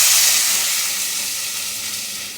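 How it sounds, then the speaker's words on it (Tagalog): Food sautéing in a pan in a home kitchen, a loud, steady, close sizzle with hissing steam that fades slightly over a couple of seconds, with no talking. "So, igisa natin siya ulit."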